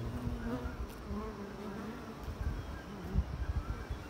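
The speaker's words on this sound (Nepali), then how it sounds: "यिनी हाम्रा भिरमौरी हुन्।" Cliff honey bees and smaller rocket bees buzzing around a hive box on a bee farm, a dense continuous drone with fluctuating pitch as individual bees fly close, no talk.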